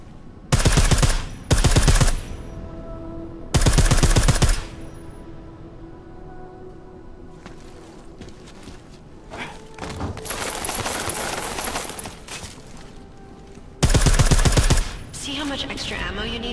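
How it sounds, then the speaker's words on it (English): Silenced gunshots in the video game Deus Ex: Mankind Divided come as several short, loud bursts of rapid shots separated by quieter stretches of ambient game noise. "I like how silencers reduce sound, but the trade-off is less stopping power"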